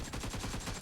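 Rapid automatic gunfire in the PUBG battle royale game during a team deathmatch drop shot, a dense continuous burst of shots at a steady fast rhythm lasting under a second, loud and alone with no talk.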